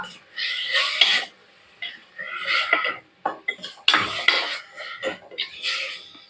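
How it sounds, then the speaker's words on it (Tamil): Chicken kurma ingredients stirred in a pot with a spoon, making repeated close scraping and clinking strokes in uneven bursts with short pauses between them and no talk. "எல்லாத்தையும் ஒரு கிளறு கிளறு வச்சுக்கலாம்"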